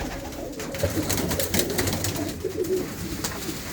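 Pigeons in a loft in England, kept by Punjabi fanciers, give soft, steady cooing and fluttering over a constant murmur, close and moderately loud throughout, with no talking.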